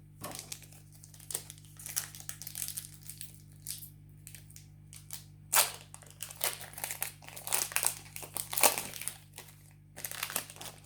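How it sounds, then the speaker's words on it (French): Pokémon card booster packs being torn open, foil wrappers crinkling and crumpling in repeated close bursts over a quiet background hum. "6 boosters, les amis, qu'on va ouvrir en totalité sur cette vidéo"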